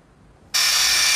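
A Ryobi Kyocera BID10XR impact driver in medium mode switches on abruptly after a brief quiet, then holds a loud, steady, close whir.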